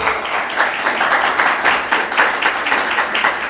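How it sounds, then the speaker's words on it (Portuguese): A church congregation gives steady, enthusiastic applause, with many hands clapping in a dense, continuous patter that pulses slightly for several seconds. "Você pode aplaudir Jesus bem forte, queridos?"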